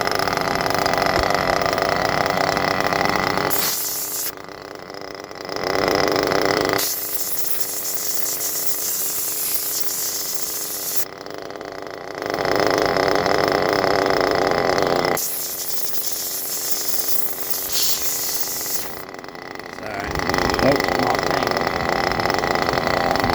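A small nitro model engine idles during break-in with a continuous high buzzing drone that repeatedly shifts in pitch and character over several long stretches, heard close up and alone.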